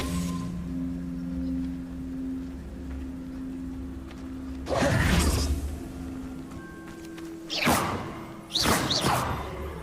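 Levioso spell cast in Hogwarts Legacy on PS5, heard as a few sharp swooshing bursts with thuds, each a loud brief whoosh over a low steady ambient hum.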